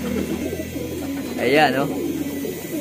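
Pet pigeons or doves squabbling over a female give a rising burst of cooing calls close by, partly under someone talking.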